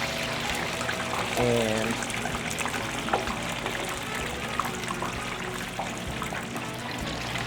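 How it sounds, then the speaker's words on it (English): Fries dropped into a deep fryer in a restaurant kitchen set off a dense, steady bubbling hiss of frying oil, close and continuous, with a brief voice over it amid kitchen clatter. "I'm gonna drop these fries right now."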